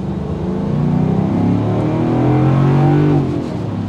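A 2023 Land Rover Defender 90 V8 is driven hard, its loud engine revving and rising in pitch as it accelerates, then easing off near the end.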